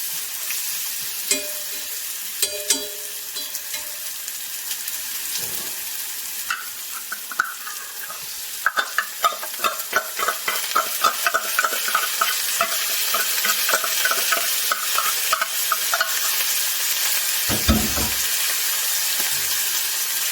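Mushrooms sizzle and crackle in garlic oil in a hot pan while being stirred, with clicks of a utensil scraping, gradually growing louder.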